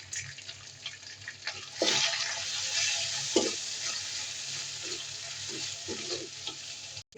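Garlic, onion, panch phoron and cumin sizzle in hot oil for papaya dal, a steady close frying hiss with occasional stirring scrapes and soft clinks, no talking.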